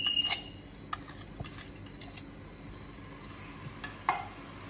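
Chopped onions being sautéed in a pan for keema, a low, steady sizzle with occasional sharp clinks and scrapes of a spoon against the metal pan, heard close.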